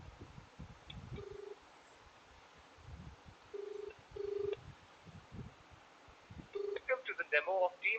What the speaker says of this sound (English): I am calling into the IVR.